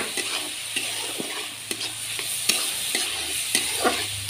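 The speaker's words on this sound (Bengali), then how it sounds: "শাকটা ভাজা ভাজা, ওই ডালটা ভাজা ভাজা হোক" Lai greens and red lentils stir-fry in a pan, a continuous close sizzle broken by regular sharp scrapes of a spatula against the metal.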